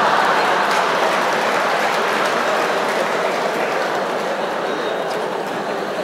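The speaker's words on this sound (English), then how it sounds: "You're not supposed to applaud," Steady, dense applause from a lecture audience fills the whole stretch, a continuous wash of many hands clapping at even loudness with no voices over it.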